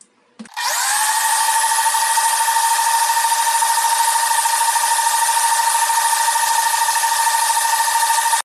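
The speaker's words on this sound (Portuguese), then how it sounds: "Normalmente eu não desligo a batedeira." Electric stand mixer whipping butter cake batter while sugar and egg yolks are added, a loud, even motor whine starting abruptly and running continuously without a break.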